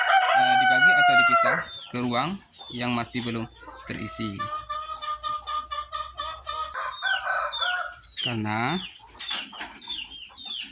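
Chickens cluck and squawk up close in a laying-hen chick coop, a rooster-like call rising at the start, while someone talks over the birds throughout.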